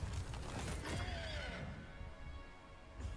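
A horse neighs in Prince of Persia: The Lost Crown, a video game, one loud descending whinny over mechanical clanking and rumbling game sounds, fading into quieter ambience.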